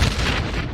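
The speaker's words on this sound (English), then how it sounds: "That's a pretty good one. Explosion." A short, deep explosion sound effect, a loud low boom that rumbles and fades slowly without dying out.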